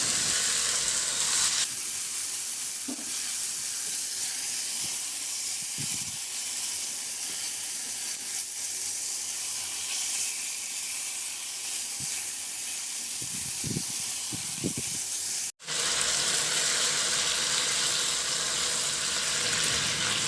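300 grams of pork lomo fries in a pan with a steady, loud sizzling hiss that runs unbroken, with a few faint clinks of stirring and a brief dip near the end before the sizzle resumes.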